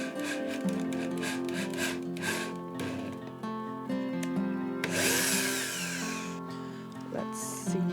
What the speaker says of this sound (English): Now I need to drill some new holes for this bastard.